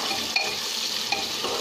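Khichdi masala roasts in a pan until brown, giving a steady close sizzle with a couple of faint clinks of a stirring spoon and no voices.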